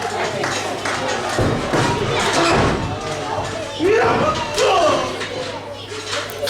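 A heavy slam of a wrestler's flying elbow hitting the mat at a live wrestling show, a loud thud amid crowd noise, with a commentator talking over it.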